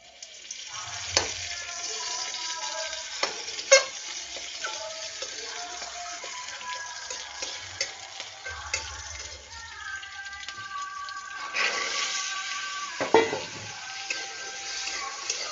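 Boiled chickpeas and green chilli frying in a little oil, a soft continuous sizzle with occasional clinks and scrapes of a spoon against the pan, heard close and without talk.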